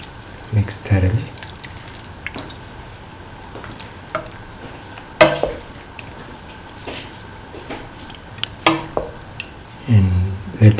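A spoon stirring a thick okra, winter melon and coconut milk stew in a pot, giving irregular wet scrapes and squishy clinks up close, with a faint simmering hiss underneath.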